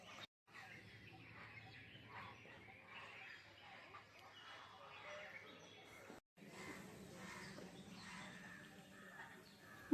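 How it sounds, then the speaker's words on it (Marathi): Birds calling around the rear grounds of a Datta temple in Ahilyanagar, faint clucking and chirping calls spread through the clip, with a low murmur of people and two short dropouts. "येथे मला कोणते तरी 2 पक्षी दिसले"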